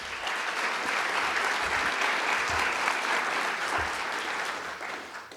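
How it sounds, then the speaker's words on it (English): An audience at a mayor's business and community awards ceremony claps in sustained, dense applause for several seconds, steady throughout and fading slightly at the end. "So let's please give them a round of applause."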